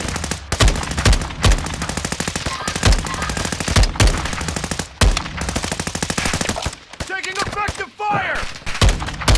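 Rapid, loud gun bursts from Call of Duty hammer out in quick repeated strings with brief gaps, then a short pause and scattered shots near the end.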